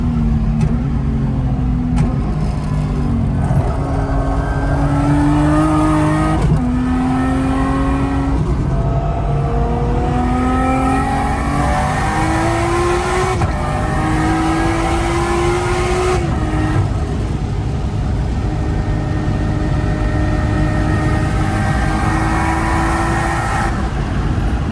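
A Nissan Skyline R34 on winter tires at a racetrack trackday, a loud sustained engine roar rising through repeated gear pulls in stepped sweeps, heard from inside without talk.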